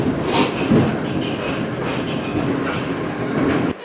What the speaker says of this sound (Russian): Колеса стучат по рельсам